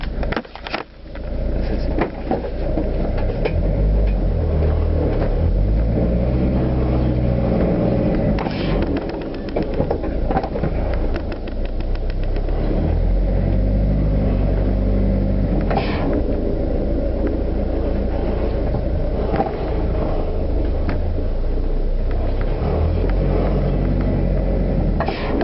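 A car engine runs steadily with a deep, loud rumble close by, rising in a few brief revs and settling back to idle throughout.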